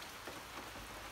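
Steady rain drums on the metal roof of a deck in Athens, PA, a dense, even patter of drops held close and continuous with no voices.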